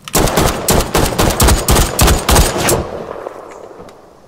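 Rapid bursts of loud gunfire crack in quick succession for nearly three seconds, then cut off, leaving a faint echo and a couple of distant pops; a comedy series scene.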